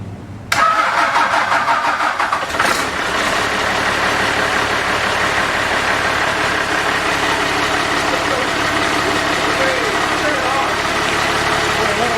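A mechanical Cummins diesel swapped into a 1965 Chevrolet C10 cranks briefly and fires, settling into a loud, steady, rough idle close by, with people's voices mixed in.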